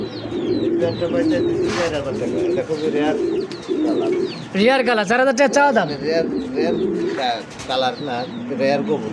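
A pair of pencil border pigeons coos softly at a seller's loft, the low throaty calls repeating beneath continuous conversation between people.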